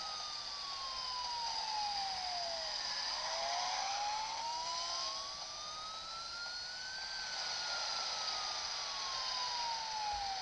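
A loud wailing fire truck siren in the Roblox game Car Crushers 2 rises and falls in long sweeps, with overlapping tones, over a low engine hum.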